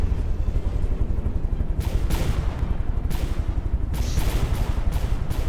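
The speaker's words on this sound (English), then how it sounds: "Oh, another big explosion." Dense, rapid video game gunfire crackles nonstop with heavy rumbling explosions, including ammunition blowing up, bursting through every second or so, loud and chaotic like a battle scene, in From The Depths.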